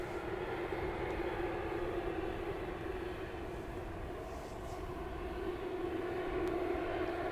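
An airplane passes overhead during early-morning plane spotting, its engine roar a steady broad rumble that holds evenly for several seconds at moderate distance, with no talk.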